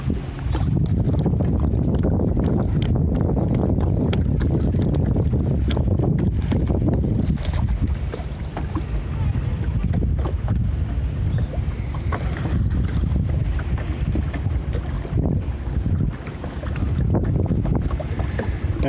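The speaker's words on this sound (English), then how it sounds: "it looks like kind of a fairly light wind, but something that we can work with anyway, enough to push the boat along." A sailboat moves along in a light easterly breeze on a trip to the Isles of Shoals. Steady wind buffets the microphone, and water rushes and sloshes against the hull close by.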